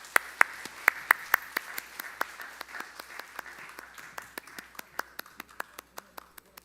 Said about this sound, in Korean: 박수로 우리 좀 환영해 주시면